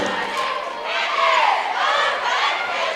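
Crowd at a 2017 high school basketball game between Jonesboro and Forest Park, a continuous wash of chatter and shouting cheers that swells and fades, loud and close throughout.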